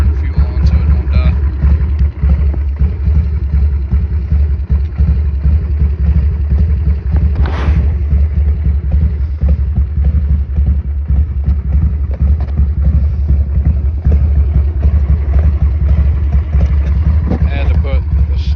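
A 2003 Harley-Davidson Sportster 1200 with stock airbox and carburetor idles steadily at close range, a loud low rumbling throb with a brief sharper burst midway, and someone talks over it.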